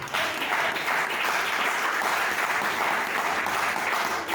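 Congregation applauding inside a church during an evangelical gathering, a steady dense wash of clapping that fills the whole stretch at moderate loudness.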